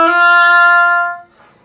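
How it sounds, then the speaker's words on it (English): A single low oboe note sounds deep and full, held loud for about a second before fading out. "The low register is really deep and full"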